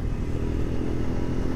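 A 2024 Royal Enfield Scram 411 motorcycle rumbles steadily while riding through São Paulo traffic, a continuous dense engine drone with road and wind noise and no talking.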